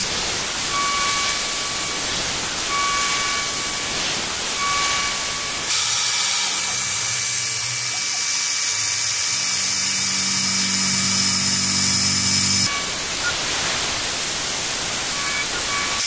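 CNC mill cutting a metal part on a home shop CNC milling setup, a loud continuous hissing cutting roar that shifts tone midway, with a high steady whine running through, no talk.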